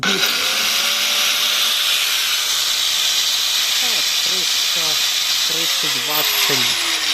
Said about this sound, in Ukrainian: Ось болгарка. Це болгарка.